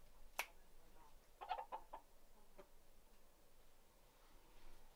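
A few short clucks from small hens in a van, brief bursts clustered near the start and middle over a quiet background, with no talking.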